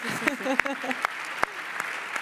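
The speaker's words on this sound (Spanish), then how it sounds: "un aplauso, por favor, drama coreano" A few scattered claps rise from an audience at a Spanish tech-outreach talk, brief and uneven, mixed in with voices.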